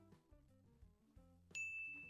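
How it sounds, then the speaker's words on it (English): A bright bell ding sound effect rings out once and sustains as a clear ringing tone, following a stretch of low background music. "There's the bell."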